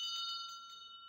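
A small bell rings with a bright, sustained metallic tone that decays smoothly over about a second, heard alone and fairly clear.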